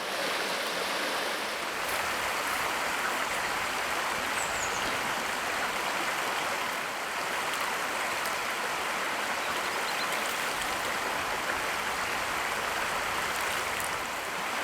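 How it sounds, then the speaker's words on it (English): The River Dove flows steadily nearby in the Peak District, a constant broadband rushing and babbling of stream water with no pauses or voices. "The River Dove."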